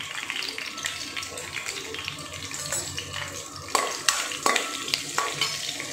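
Curry leaves dropped into hot oil for a side dish served with idli, chapati and dosa crackle in a dense, close sizzle, with several sharp spattering pops toward the end.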